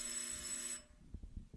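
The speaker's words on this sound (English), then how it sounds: "Answer that phone, please, Miss Thornhill." An old telephone bell rings loudly in a steady burst for under a second, then cuts off, leaving faint low thumps and room noise.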